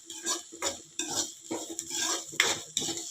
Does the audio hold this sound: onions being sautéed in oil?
yes